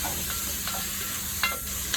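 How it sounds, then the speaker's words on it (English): Steady sizzling hiss of spices frying in hot oil for Southern Hoppin' John, close up, with a few light stirring scrapes over the continuous crackle. "I just like to put the spices in while it's frying or in the oil a little bit."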